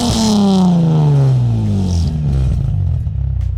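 A Nissan 350Z fitted with a Flashark Y-pipe single exhaust, still warming up, gives one loud, close rev whose tone falls away into a deep, rumbling idle.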